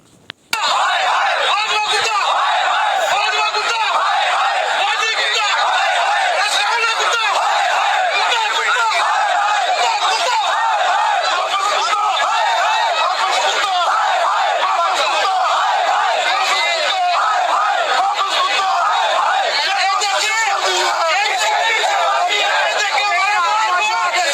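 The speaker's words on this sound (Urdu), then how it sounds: "یہ میں آپ کو سنواتا ہوں کس طریقے سے یہ نعرے لگے ہیں" Crowd of protesters in Faisalabad chants political slogans in unison, loud rhythmic shouting over dense crowd babble that continues without pause from start to finish.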